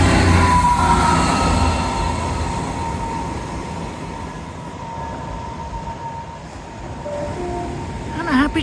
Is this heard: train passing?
yes